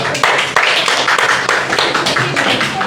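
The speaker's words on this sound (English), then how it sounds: "A big hand for Labiba." An audience at a youth presentation session claps for a presenter, a dense, close, continuous patter of many hands with a few sharper individual claps.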